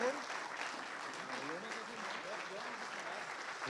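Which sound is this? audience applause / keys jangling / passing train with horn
audience applause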